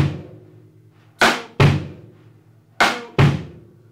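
A drum kit plays a short pattern with the bass drum placed on the E of beat 2. Four sharp, close hits come in two pairs, each strike ringing briefly, with no voices.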